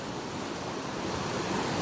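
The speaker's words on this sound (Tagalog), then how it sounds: "ang laki ng baha" Floodwater from heavy rain rushing down from the mountain through a swollen creek turned river, a steady, loud, dense roar with no pauses across the whole moment.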